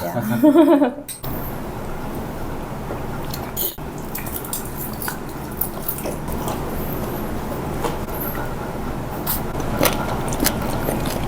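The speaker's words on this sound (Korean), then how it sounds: "아니 이게 참치를 씹어 먹는 소리가 맞아요?" Close, wet chewing of tuna, with irregular squishy bites and sharp little clicks over a low room murmur, after a short burst of other noise at the start.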